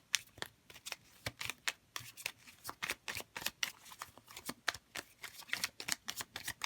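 Tarot cards being shuffled close up in a rapid series of crisp, snapping riffles and flicks, loud and steady, with no voices.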